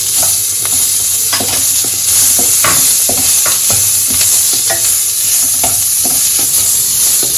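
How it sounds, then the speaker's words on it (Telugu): Fresh raw coconut frying and being stirred in a pan for pudina chutney: a constant loud, close sizzle with a scattering of scraping stirring strokes throughout, no voice. "ఇప్పుడు ఇవి వేగిన తర్వాత ఈ పచ్చి కొబ్బరి కూడా కొద్దిగా వేపుకుంటున్నానండి."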